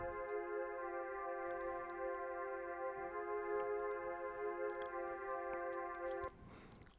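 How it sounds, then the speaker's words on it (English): A soft, sustained string chord holds steady and smooth for several seconds, then cuts off abruptly near the end. "let me get soft legato strings from hypersonic"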